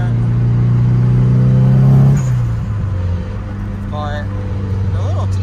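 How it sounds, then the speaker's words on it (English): A Nissan 180SX with a T25 turbo pulls with a loud, close engine drone, then the pitch drops as the throttle lifts and a rising turbo whistle follows, with someone talking over it. "But the little T25 spools up nice."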